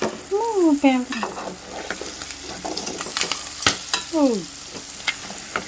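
Chicken liver with chilli powder sizzles in a pan while being stirred, a steady frying hiss broken by scraping strokes and a few short whistling squeaks.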